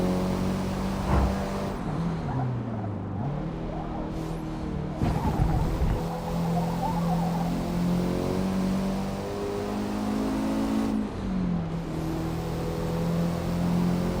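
Race car engine in the Forza Motorsport video game, a loud steady drone with rising revs and gear shifts, close and continuous throughout, with no talk over it.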